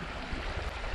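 Bubbling brook on the Ganaraska Trail in the Ontario back country, a steady, soft, close rush and gurgle of running water with no voices.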